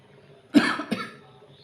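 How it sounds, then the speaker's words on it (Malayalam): Two quick coughs in a row from steam inhalation, close and fairly loud, the second shorter than the first, with quiet before and after. "ആവി തട്ടുമ്പോൾ ചുമയൊക്കെ വരും കേട്ടോ."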